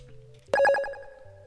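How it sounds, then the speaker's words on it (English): A short electronic notification chime plays as a quick run of bright, pulsing tones, clear and close, with a faint low hum underneath and no talking. "I think I got some sort of a notification noise"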